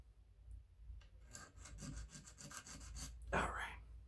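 Close, steady back-and-forth sanding strokes on the wooden stock of a Brown Bess musket, roughly a dozen rhythmic rasping passes with a brief sharper scrape near the end, no talking.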